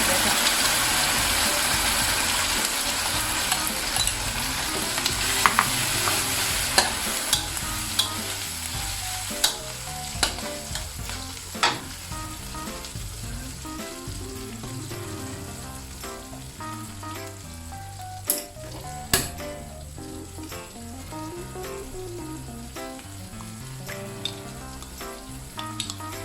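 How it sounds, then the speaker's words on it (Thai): Squid, garlic, sauce and salted egg yolk stir-fry in a pan, making a continuous close sizzle with scattered clicks of the spatula against the pan. A soft melodic background sound runs underneath. "ใส่น้ำซอสลงไปผัดเลยค่ะ"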